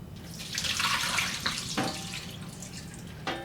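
Water pours and splashes as it drains off a soaked cleaning tray from an xTool S1 laser, a close, steady gush followed by a few drips and soft knocks.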